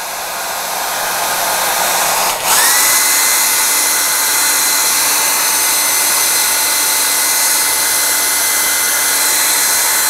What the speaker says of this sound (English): Sorry about the hair dryer.